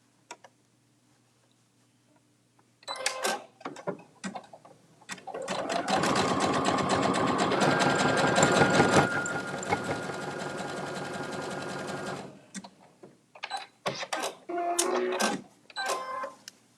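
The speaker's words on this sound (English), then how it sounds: "So let's head over to the sewing machine. All right, zigzag." A sewing machine runs a zigzag stitch in a steady mechanical burst of about six seconds, loud and close, framed by clicks and handling noise before and after.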